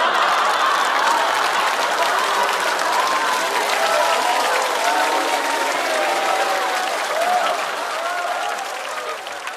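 A studio audience at a Chinese roast comedy show breaks into sustained, loud applause, dense clapping filling the room for nearly ten seconds before easing slightly at the end.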